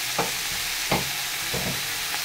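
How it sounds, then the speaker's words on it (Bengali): Bathua greens frying in a pan with garlic and green chili, hissing steadily with several scraping stirs at an even pace, close and alone. "রসুন আর কাঁচা লঙ্কা ফোড়ন দিয়েছি, আর দিয়ে দিলাম শাক"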